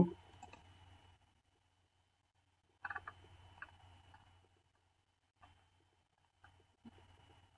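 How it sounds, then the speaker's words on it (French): Computer mouse clicks come as a few sharp, isolated ticks with short quiet gaps between them, faint and close, and nobody speaks. "Je clique sur ce point."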